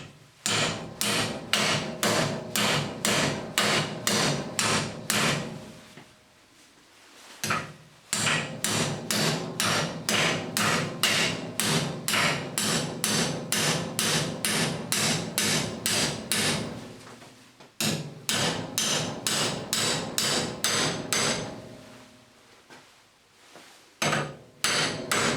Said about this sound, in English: we just need to bend back on the steel and hit the steel at the same time as close as we can to the top of the vise